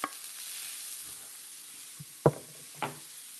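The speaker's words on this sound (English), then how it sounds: "I'm gonna put this in there. Onions, peppers, a little bit of broccoli" Onions, peppers and a little broccoli sizzle in a hot pan for a vegan mung bean scramble: a steady, soft hiss close by, broken by a few sharp clinks of utensils against the pan.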